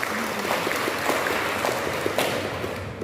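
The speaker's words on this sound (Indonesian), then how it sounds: "tepuk tangan Pak Dani." Audience in a hall at the opening of an education seminar gives a dense, steady round of applause that fills the short span at moderate loudness, with scattered individual claps standing out.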